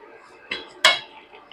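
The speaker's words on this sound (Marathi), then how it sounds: "आता मी ह्याच्यावर झाकण ठेवणार आहे" A metal lid set onto a pot of spinach cooking in a home kitchen gives two short clanks of metal on metal, close and fairly loud, over a faint background hiss.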